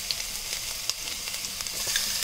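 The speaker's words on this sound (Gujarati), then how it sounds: "તેલ ગરમ જ છે તો એમાં ક્રશ કરેલું આદું એડ કરી લઈએ" Crushed ginger sizzles in hot oil while gravy for Manchurian is being made: a continuous, close frying hiss with small crackling pops and no voices.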